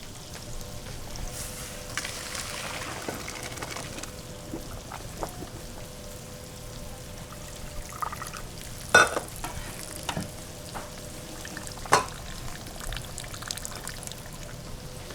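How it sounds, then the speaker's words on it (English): Cooked rice strained through a colander, water pouring out in a steady rushing wash with a few sharp clanks, close and alone without talk. "So we're gonna strain this rice."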